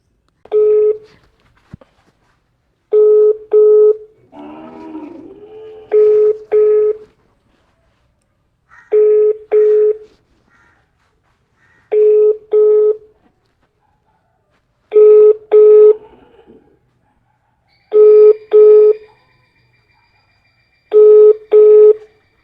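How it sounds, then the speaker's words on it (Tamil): An outgoing phone call rings through a handset: a loud double-pulse ringback tone repeats about every three seconds, with a short warbling tone early on and silent gaps between rings. "மிதுவன் நாள் கோல் எடுக்கிறத விட சனுவுக்கு கோல் எடுத்து பார்ப்போம்"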